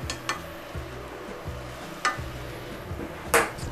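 Bok choy goes into a hot pan with cooked garlic, giving a soft sizzle with a few sharp clinks and taps of a utensil against the pan. Quiet and close, with no talking.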